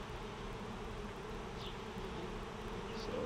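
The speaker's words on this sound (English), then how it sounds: "A lot of bees." Honey bees drone steadily around an open backyard hive while a brood frame is inspected, a dense close buzz with individual bees passing near now and then.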